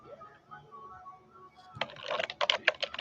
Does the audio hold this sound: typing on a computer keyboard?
yes